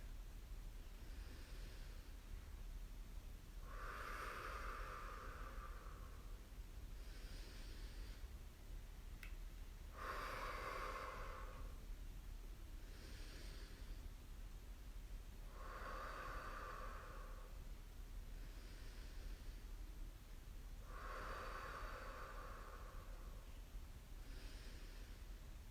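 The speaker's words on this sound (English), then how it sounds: "So do those series of breathing." Slow rhythmic breathing, in through the nose and out through the mouth, heard as four or five soft, airy breaths at regular intervals over a low steady hum during a guided meditation.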